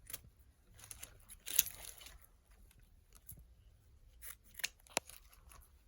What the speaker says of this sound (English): And cut your ribbon.